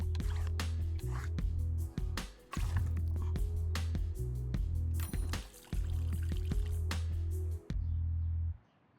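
Plants are watered in the video game Greenhearth Necromancer, with soft pouring and dripping effects repeating in short bursts under loud, steady background game music.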